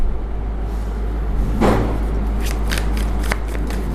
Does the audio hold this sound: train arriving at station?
no